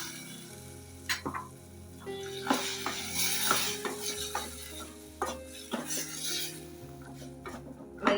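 Soaked chickpeas going into a masala gravy in a pot, with close, clattering spoon strokes and pot knocks over a soft sizzle, irregular and distinct.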